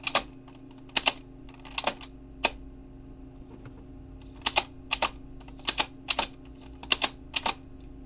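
Sharp plastic clicks from a DecaDriver transformation toy belt in small clusters, some doubled, with pauses between, close and crisp against a quiet hum.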